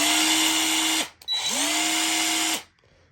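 A Ryobi 1/2 inch cordless impact wrench spins freely in two close, steady whirring bursts with a short gap between them. Each burst ends as the motor winds down.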